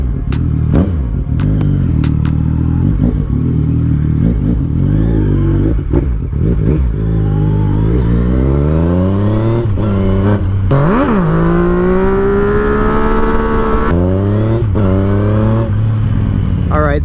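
A used Yamaha MT-09 (FZ09) motorcycle with a slip-on exhaust is ridden, its loud engine revving and rising and falling in pitch through the gears, close and continuous from start to finish.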